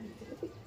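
Pigeons kept as racing birds coo softly in a short burst of two or three low, throaty notes at close range.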